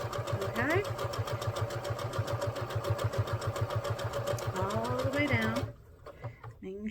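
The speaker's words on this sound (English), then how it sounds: "using your 1/4 inch seam allowance, you just sew down" A sewing machine stitches a quarter-inch quilt seam, running in a steady rapid mechanical chatter for about five seconds before stopping abruptly, close and clear with no talk over it.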